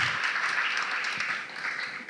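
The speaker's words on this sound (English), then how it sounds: "So just let's give a round of applause for our panelists." Audience applause for panelists at a literature festival session, a dense, steady patter of many hands clapping that fades slightly toward the end.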